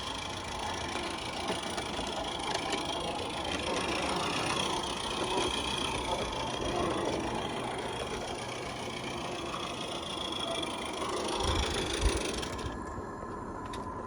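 A small model steam engine, a Regner Lumber Jack, runs continuously with a fast, even mechanical chatter and ticking, steady and close, ending with a brief hiss.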